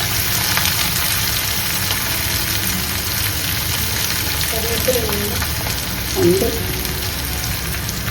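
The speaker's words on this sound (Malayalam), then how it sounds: "അതും കൂടി എണ്ണയിലിട്ട് വറുത്തെടുക്കാം." Garlic and red chillies fry in hot oil for chicken 65, giving a continuous crackling sizzle with occasional spatters, while a person speaks briefly and softly over it.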